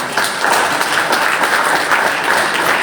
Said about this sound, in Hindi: तो आपकी तालियां बताती है कि मंजूर है।